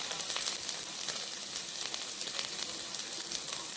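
Panch phoron spices with grated ginger frying in hot oil, a steady close sizzle throughout with fine crackling bursts and no talk.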